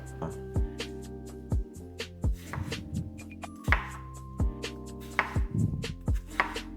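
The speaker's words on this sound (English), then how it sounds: "So we're gonna start by chopping up some veg." A knife chops peppers and cucumber on a board in a series of sharp, evenly spaced thuds close up, a few clinks mixed in.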